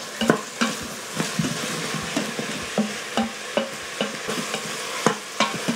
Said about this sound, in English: You just want to saute this until the onions turn translucent.